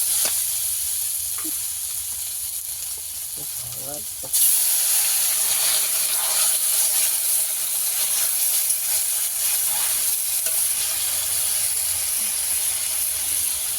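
Water poured into hot spices and chilli powder in a pan for a Bengali river fish curry bursts into loud, steady steaming sizzle after a quieter stretch of low frying and stirring, the hiss continuing strongly to the end.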